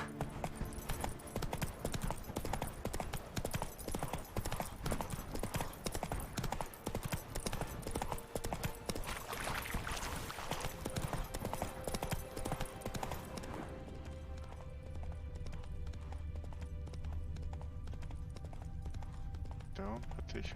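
Horse hooves clip-clop steadily at a riding pace in Witcher 3, near and rhythmic over a busy game soundscape, then fade out as a low ambient drone takes over.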